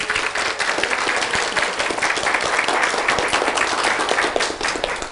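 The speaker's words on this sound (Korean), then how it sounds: "합격생들을 위해서 박수 칩시다." A large crowd at a gathering for successful exam candidates applauds steadily, dense clapping from many hands filling the room at a loud, even level.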